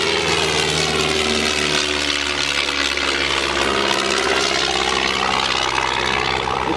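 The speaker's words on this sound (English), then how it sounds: "It's powered by a 140 horsepower Renault engine" Stampe SV4C biplane with its 140 horsepower Renault engine droning steadily, a loud, even propeller hum with a constant pitch throughout and no break.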